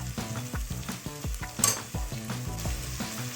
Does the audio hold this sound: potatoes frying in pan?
yes